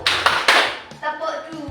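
During a school culture session, the audience gives a few sharp clapping bursts on cue, with a voice speaking over the later part.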